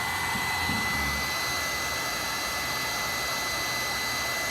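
A hot air tool, hotter than a hair dryer, blows in a steady, loud, unbroken hiss-and-roar that holds level throughout.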